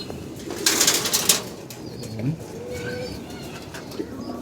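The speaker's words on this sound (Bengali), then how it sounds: "এই যে আমাদের কবুতরগুলো আপনারা দেখতে পাচ্ছেন" Pigeons in a loft, a burst of wing flapping close by followed by soft low cooing and faint bird calls in a quiet indoor space.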